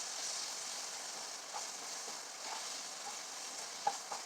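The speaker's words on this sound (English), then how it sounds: "put a little brown sugar in my other pan, the one that you hear sizzling" Steady, soft sizzling of brown sugar in a hot pan, a broad hiss with a few faint pops and clicks, no talking.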